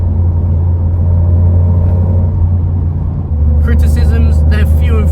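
Low, steady road rumble fills the cabin of a 1982 Ford Escort XR3 driving on a rough surface, loud and continuous, with brief voices over it near the end.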